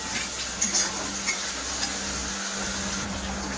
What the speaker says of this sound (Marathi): आता आपण लसूणची पेस्ट घातली आहे। लसूण छान परतवून घेणार आहोत।